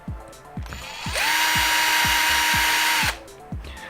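A power drill set to its lowest speed whirs steadily for about two seconds, close and loud, with rhythmic ticking clicks before and after, while disassembling a Destructor BBR DF model's rear differential.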